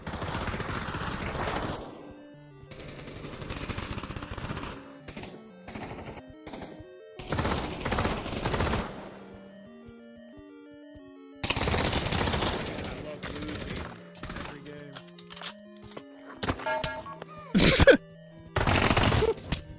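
FAMAS rifle fire in the VR shooter Pavlov VR comes in sharp, loud bursts separated by gaps, mixed with other gunshots and scattered impacts, and a voice exclaims in between.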